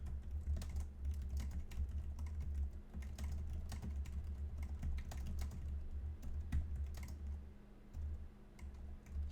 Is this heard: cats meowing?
no